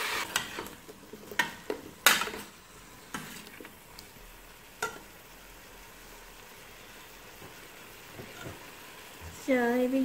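Pineapple stir-fried with sugar in a pan for a Vietnamese chicken and pineapple sour soup sizzles quietly, with several sharp spatula clacks and scrapes early on before a louder burst of frying near the end.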